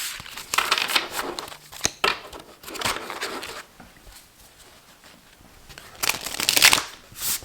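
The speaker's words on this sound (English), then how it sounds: "let me shuffle these cards first." A deck of tarot cards is riffled and shuffled by hand in repeated crisp bursts of papery flutter, close and fairly loud, with short quiet pauses between rounds.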